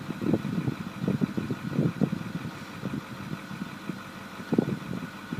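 A 2008 Ford F550 truck's diesel engine idles steadily nearby, a low rumble with small uneven pulses, heard alone with no talk.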